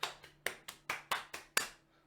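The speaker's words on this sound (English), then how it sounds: "One round of applause" Seven separate, crisp claps spaced about a quarter second apart ring out close and clear in a quiet room, a small at-home round of applause with silence after the last one.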